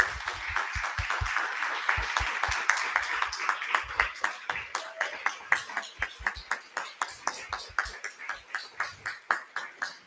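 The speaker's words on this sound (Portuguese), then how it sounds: "para receber uma salva de palmas nossas" Meeting attendees give a standing round of applause for a university planning team, individual claps clearly separated and irregular at first, then settling into slower, sharper hand claps that taper toward the end.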